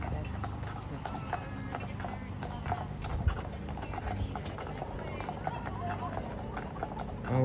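Horses pull a buggy, their hooves clip-clopping in a steady rhythm on the road at moderate distance, with faint chatter and ambient noise underneath.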